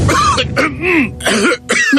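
A few harsh, raspy dry coughs and throat-clearing sounds in quick succession, close and loud, with a brief pause between bursts, in a cough medicine advertisement.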